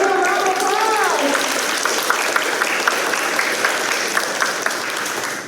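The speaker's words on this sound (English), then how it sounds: "Let's give a round of applause." Applause from a virtual 5th grade recognition ceremony, a steady wash of clapping that runs the whole time, with a voice talking over its opening second.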